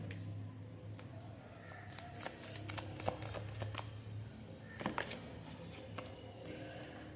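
Quiet, close shuffling of tarot cards, with soft riffles and irregular flicks and slaps of cards, clustered bursts across the span, with no speech.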